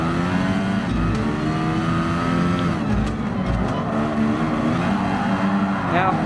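Lotus 97T Formula One car racing in Gran Turismo Sport, its engine holding a steady, loud drone with shifting pitch throughout, under continuous talking.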